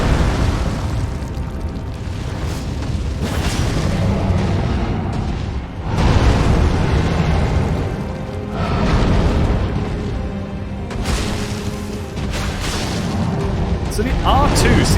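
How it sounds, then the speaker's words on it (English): Explosions in the video game Elden Ring, several loud, deep booms bursting one after another with rumbling tails and crackling pops, while a voice talks over them. "Should you just bait it to explode and then"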